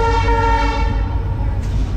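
The Dooars Vistadome tourist train sounds a long, loud, steady horn blast over low rumbling as it pulls out of Chalsa station.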